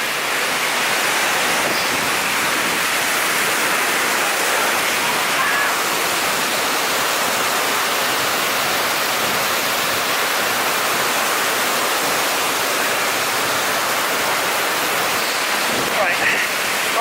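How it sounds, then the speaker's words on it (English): Roaring waterfall heard up close at its base in Iceland, a dense, steady broadband rush of falling water that stays loud and unbroken throughout, with spray-soaked wash filling the whole scene. "I've managed to climb down right to the base of the waterfall"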